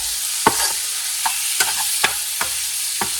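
Garlic sizzles steadily in a paella pan, a bright close frying hiss broken by about six sharp scrapes and knocks of a spoon stirring through it.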